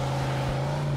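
An old beat-up car driving in the video game Mafia 2, a steady low engine drone with a constant hum running through the whole moment, no voices.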